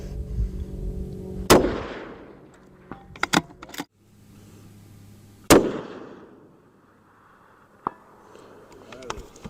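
Rifle shots fired at a target with an MDT Oryx chassis rifle: two loud, sharp cracks several seconds apart, each followed by a rolling outdoor echo, with small metallic clicks and handling noises between them.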